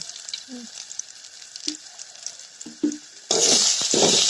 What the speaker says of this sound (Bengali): এখন যদি একটু ভাজা ভাজা মতো করে নিই তাহলে কিন্তু একটা সেন্ট আসবে ভাজার সময়